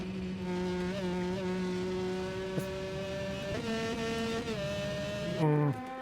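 250cc two-stroke superkart at speed on the Isle of Man TT course, its engine screaming with a high, steady note that shifts pitch through gear changes and bumps, heard close from onboard.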